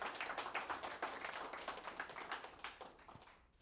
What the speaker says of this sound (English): So let's hear a round of applause for him.